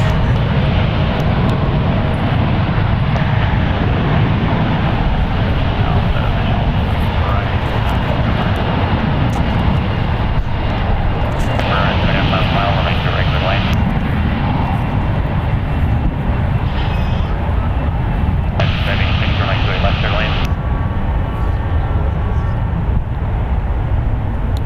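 SkyWest airliner taking off at San Francisco International Airport, a loud continuous jet engine roar filling the whole span with a steady rumble and hiss, somewhat distant.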